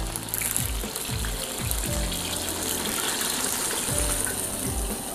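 Fried battered banana pieces tumble out of a wok of hot oil into a draining vessel, giving a steady, loud rush of oil with rhythmic clunks and scrapes throughout.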